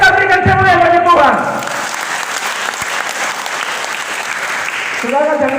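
A church congregation at a faith revival service breaks into loud, sustained clapping close by, with a voice speaking over the start and end.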